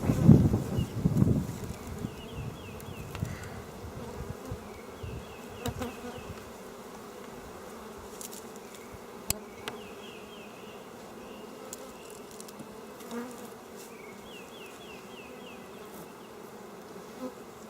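Honeybees buzz steadily during a hive inspection, a dense close drone that carries on throughout, with a burst of handling and rustling noise at the start.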